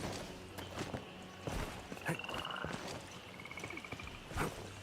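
Frogs croak in the video game Arknights Endfield, faint trilling calls scattered among soft footsteps and ambient game noise.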